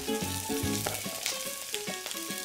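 Shrimp sizzle and crackle in olive oil in a hot pan, a steady hiss of frying with bits of stirring and faint background tones.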